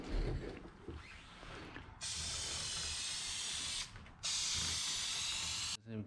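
Spray gun laying a clear coat on a car in a DIY peeling clear coat repair: two long, steady, loud hissing bursts, cut off briefly between them, after a quieter stretch of handling noise.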